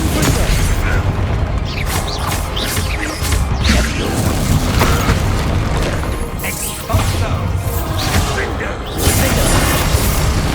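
Bombarda blasting spells erupt in Hogwarts Legacy combat, loud booms and crashing impacts repeating every second or two over dense battle noise and whooshes, with voices shouting beneath.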